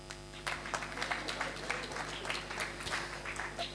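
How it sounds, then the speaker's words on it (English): An office audience at a forum claps hands, a scattered, moderately loud patter of claps that swells and lingers over a low steady hum. "Clap hands."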